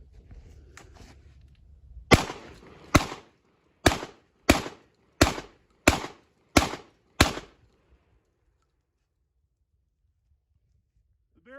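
A Beretta 1301 shotgun firing light loads at an outdoor range: eight loud, sharp shots at a steady pace of just under a second apart, followed by silence, with faint talk before the first shot.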